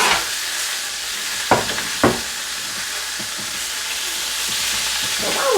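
Chicken frying in a skillet, a constant close sizzle broken by a couple of sharp clinks and small pops, with no voices.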